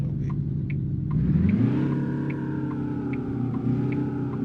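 An 8V truck engine in American Truck Simulator revs up, its pitch climbing in a smooth sweep, then settles into a steady, droning hum. No one speaks.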